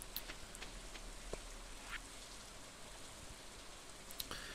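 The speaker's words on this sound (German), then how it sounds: "Es regnet wieder." Steady rain patters softly with occasional distinct drops in the game Stardew Valley, a faint, even background wash with no talking.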